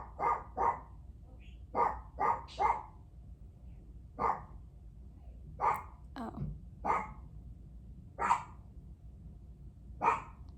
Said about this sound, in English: I had to pause for a second because my dog